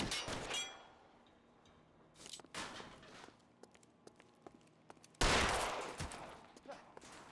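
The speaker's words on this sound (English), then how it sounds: "you shot him in the back of the head" Gunshots in an L.A. Noire shootout: a cluster of sharp reports at the start, a few scattered shots and clicks in between, then one loud blast near the end, each set against a quiet background.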